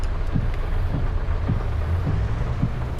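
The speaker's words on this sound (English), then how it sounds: "You can see the raindrops with the light on it." Steady heavy rain with low rolling thunder rumbles in Farming Simulator 25, set on a Louisiana farm, a loud dense wash with soft repeated thumps and no voices.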